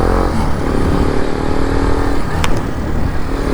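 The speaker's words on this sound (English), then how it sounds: "I will show the small example of my Acropovic exhaust sound with TB killer." Loud, steady motorcycle Akrapovic aftermarket exhaust drone with the dB killer fitted, up close, the engine holding a rumbling idle with a brief higher rev blip near the end.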